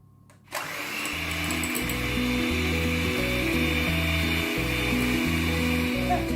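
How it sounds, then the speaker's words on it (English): Electric whisk beating vegan banana bread batter into a pale, fluffy mixture, starting abruptly after a brief pause and then running as a loud, steady motor whir with a rhythmic rattling pulse against the bowl. "So we're just going to beat that with the electric whisk."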